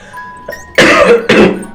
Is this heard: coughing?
yes